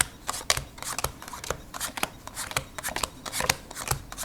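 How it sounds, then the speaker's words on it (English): Playing cards being shuffled and mixed by hand while dealt into piles for a magic trick, giving a steady run of close, crisp riffling and snapping bursts with no talk. "Just to mix up the cards a little bit better."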